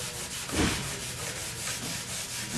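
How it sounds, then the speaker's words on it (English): Steady hand sanding with 120-grit sandpaper, a soft rhythmic rubbing scrape repeating back and forth, close up and fairly quiet. "I'm sanding with 120 grit,"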